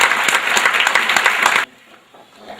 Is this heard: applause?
yes